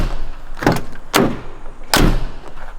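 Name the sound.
Scania truck cab door closing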